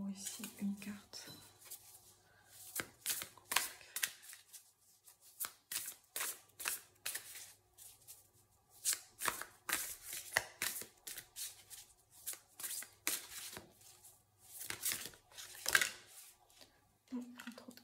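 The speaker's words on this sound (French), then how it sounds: "Je vais prendre une carte de tarot ici, une carte." Tarot cards being shuffled in repeated bursts of crisp, riffling paper flutter, close and fairly quiet, with soft pauses between bursts and a brief low voice at the start and end.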